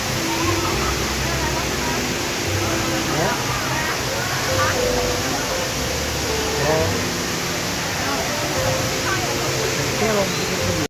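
The indoor waterfall at Jewel Changi Airport pours with a constant, dense rushing roar that stays steady and loud throughout.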